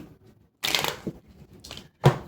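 A deck of tarot-style reading cards gets shuffled close by in a few quick riffled bursts, papery crackling flurries separated by short pauses in a quiet room.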